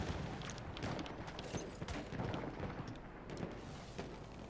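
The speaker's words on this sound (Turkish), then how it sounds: "Çok silah sesi var ama bir adam göremedim." Dense, continuous bursts of gunfire and explosions in the video game Battlefield 1 crackle and boom throughout, with rapid sharp reports layered over a rumbling background.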